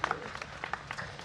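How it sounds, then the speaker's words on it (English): Wedding guests applaud the newly married couple, a brief, faint patter of scattered clapping at a distance. "big round of applause for our couple"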